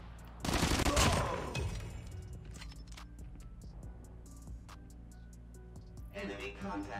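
Burst of rapid automatic gunfire from an MSMC submachine gun in the Call of Duty Mobile video game, a loud dense volley near the start, then scattered lighter shots and game effects over a steady background hum.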